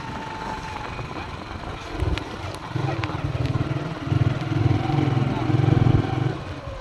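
Small motorcycle engine running steadily with a low, pulsing drone that swells louder toward the end, set outdoors in rural farmland, with faint ambient noise around it.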